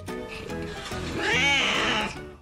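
A house cat lets out a single drawn-out meow that rises and falls, close and loud, with brief soft vocal sounds just before it.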